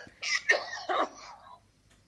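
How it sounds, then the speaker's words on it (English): A man coughs from laughing, giving two or three harsh, close bursts that trail into a raspy throat-clearing wheeze before fading out. "Daddy was laughing so much he's coughing"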